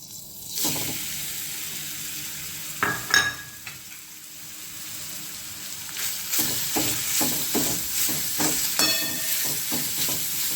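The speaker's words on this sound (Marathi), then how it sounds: "तेलावर आता ह्या शिरा चांगल्या परतून घ्यायच्या" Ridge gourd peels sautéing in oil in a pan, crackling sizzle with irregular clattering stir strokes that grow denser and steadier in the second half, close and moderately loud, no voices.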